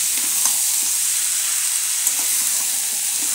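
Fig and potato curry sautéed in a pan over a medium flame, a continuous close sizzle with soft stirring scrapes and taps of the spoon, no talking.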